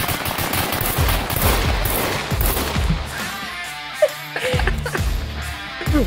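Gunfire in the survival video game Scum crackles in rapid bursts, mixed with chaotic shouting and talk, plus a sharp isolated shot partway through.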